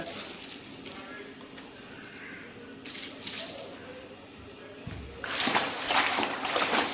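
Leafy patri vegetables slosh and splash in a bucket of salted water, with intermittent bursts of watery movement that grow louder and fuller toward the end, under faint background noise.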